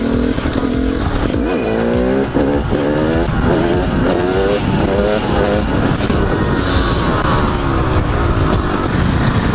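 A motorcycle engine revs repeatedly for wheelies, rising and falling in loud surging bursts, with occasional tire noise, close and without talk.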